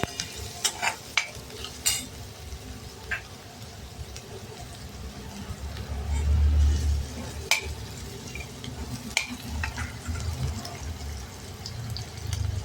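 Ghee tempering sizzles in a pan for moong-style dal with bottle gourd, stirred now and then, with soft scraping clicks and a low steady fry that swells briefly midway.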